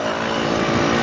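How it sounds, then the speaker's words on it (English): A Husqvarna FE350 dirt bike engine runs loud and close on an Oregon single-track trail, a steady, buzzing drone that holds its pitch without pause. "Oh yeah, I hear a 350 revving"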